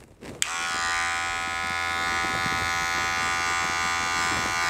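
An electric hair clipper buzzes loudly and close while cutting the hair at the sides of the head, switching on with a click and then running at a constant, unbroken pitch.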